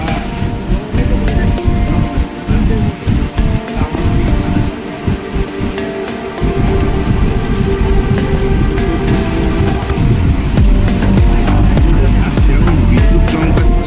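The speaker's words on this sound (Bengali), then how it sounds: "চরম বৃষ্টি হচ্ছে পুরো।" Heavy rain pours steadily and loudly on a train during a thunderstorm with lightning, a dense continuous roar with occasional low rumbles, and no talk.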